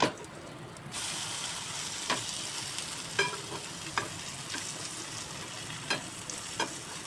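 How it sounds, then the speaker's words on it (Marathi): Bombay egg toast fries in an oiled pan, a steady broadband sizzle running throughout with a few sharp clicks and spatula scrapes, close and moderately loud, no voices. "आता याला थोडा वेळ शिजून द्यायचं आता पलटून घ्यायचं असं"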